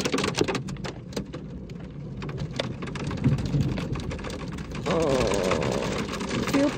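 Heavy rain pours steadily on a surface during a thunderstorm, dense patter throughout, with a low rumble of thunder swelling in the latter part, and faint voices in the background.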